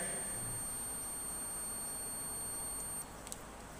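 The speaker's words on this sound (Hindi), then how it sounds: "मल्टीमीटर को कंटिन्यूटी रेंज में रखते तो रखने से आपको यहाँ पे बीप साउंड सुनाई दे पड़ रहा होगा।" A multimeter on continuity range beeps across a shorted 1N4007 diode in an SMPS power supply, a steady thin high-pitched tone that holds for about three seconds and then cuts off, fairly faint over a quiet background.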